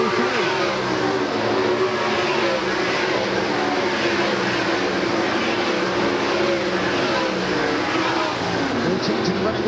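World of Outlaws sprint cars racing on a dirt track during a heat race, a loud, continuous roar of many engines blending together at a distance, with a commentator talking over it throughout.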